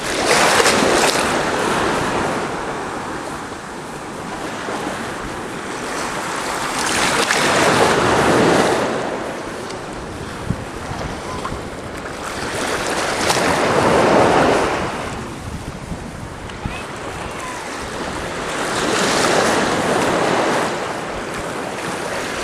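Ocean surf at Lanikai Beach in Hawaii rolls in as slow, broad swells of crashing and receding wash, several waves in sequence, with steady wind noise and no voices.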